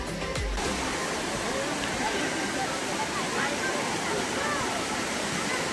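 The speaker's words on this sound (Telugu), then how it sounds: "ఈ మంగంపేట వాటర్ ఫాల్స్ని కూడా చూస్తుంటారు" Mangampeta waterfalls roaring as a loud, steady wash of falling water that fills the whole scene, with a brief knock at the start.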